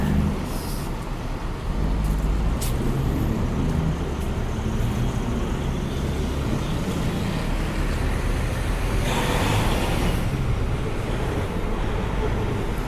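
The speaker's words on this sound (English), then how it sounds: "Very busy street for trucks because of the container terminal down here." Heavy trucks and traffic on a busy downtown Halifax street near a container terminal, a constant loud rumble of engines with a hissing air brake release partway through.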